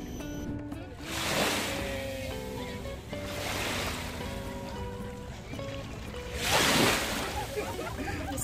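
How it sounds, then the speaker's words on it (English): Ocean waves break and wash onto a Sentosa beach in Singapore, three broad surges swelling and fading over steady wind and surf noise, with voices faint in the background. "The waves."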